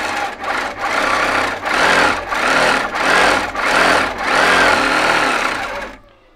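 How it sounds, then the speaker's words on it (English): Sewing machine stitching a seam with the thread run through the tension disc, a steady close mechanical whir broken by brief pauses into about six bursts, then stopping abruptly at the end. "I'm gonna stitch again right next to it because I put it into that tension disc"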